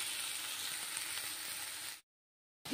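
Spice paste for a pabda fish curry sizzles steadily in hot oil in a pan, a close, continuous frying hiss that cuts off abruptly near the end.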